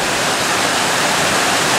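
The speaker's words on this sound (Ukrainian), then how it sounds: "тут у нас водоспад є." Steady roaring rush of a waterfall on the Chorny Cheremosh river in snowy Ukraine, loud and close, a dense broadband wash with no pauses throughout.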